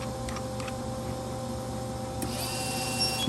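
Flux core welder feeding wire through the gun, a steady mechanical motor whir with faint ticks and a brief higher whine near the end, close and continuous with no talk.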